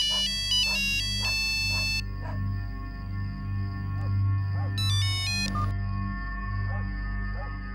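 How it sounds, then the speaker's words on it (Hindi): A mobile phone ringtone plays in two bursts of bright, repeating melodic tones over a steady low hum, with a short pause between the bursts. "संजीव का फोन है"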